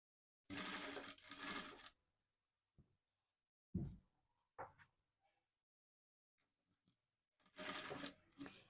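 A sewing machine stitches along the lining edge of a long frock made from an old saree, running in two short bursts, a brief one, and a final burst, with quiet pauses between.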